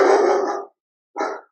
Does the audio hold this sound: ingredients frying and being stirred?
no